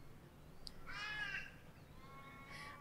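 Wild birds call outdoors on Gadigal country, a few harsh crow-like caws and chirps rising faintly over quiet open-air background hiss, with no talking.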